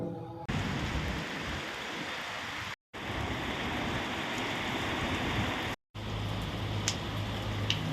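Heavy rain pours steadily along the Daman coast, a dense, loud hiss of water that carries on alone, broken twice by brief silent cuts.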